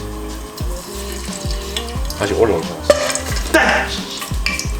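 Hot oil sizzles and crackles steadily up close as chicken is deep-fried at 170 to 180°C, with a person speaking briefly over the bubbling fry.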